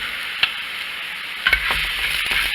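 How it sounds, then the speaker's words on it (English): Green onions sizzle in butter in a pan with a steady, close hiss, broken by a few stirring knocks and scrapes, with no talk over it. "I'm just going to put some of these green onions in here and let those cook down a little bit"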